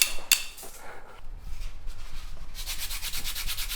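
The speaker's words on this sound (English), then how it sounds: "So just cleaning out the runner" Metal umbrella runner being cleaned out by hand in a classic English umbrella workshop, a steady close scraping and rubbing with a sharp click near the start, no talk.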